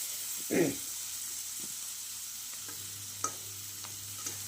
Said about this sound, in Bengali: সবকটা সবজিকে আমি একটু ভালো করে ভেজে নিচ্ছি